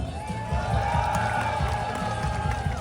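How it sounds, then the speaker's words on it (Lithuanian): Audience at a knight combat event clapping and cheering in a hall, a broad wash of applause with scattered shouts and rhythmic thumps, fairly loud and sustained. "Dabar jūsų ovacijos ir plojimai riteris Artūras"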